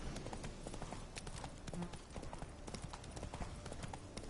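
Roach the horse galloping in The Witcher 3: Wild Hunt, rapid rhythmic hoofbeats throughout, close and steady, fairly quiet overall.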